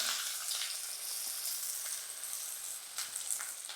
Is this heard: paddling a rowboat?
no